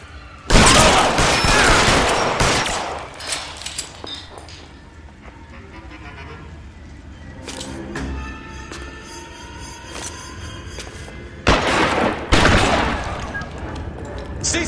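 Gunfire in an L.A. Noire shootout, with heavy bursts of shots opening and closing the passage and scattered reports between, loud and echoing, with a voice speaking during the quieter middle.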